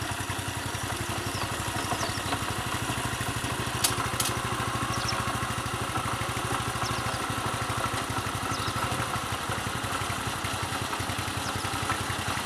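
Petrol engine of a Protea groomer idling steadily just after starting with the choke off, a close, continuous low putter with a rough mechanical clatter throughout.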